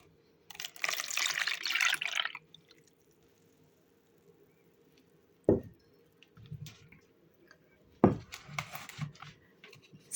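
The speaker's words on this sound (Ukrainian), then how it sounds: "Додаю сюди підігріте молоко." Warmed milk is poured into crumbled yeast in a bowl: a quiet, short liquid splash and trickle, followed by faint clinks and small kitchen handling noises.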